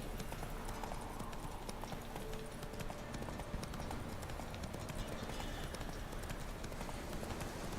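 Hooves of Roach, the horse in the video game The Witcher 3: Wild Hunt, clip-clop in a fast, steady gallop throughout, mixed with a dense game soundscape.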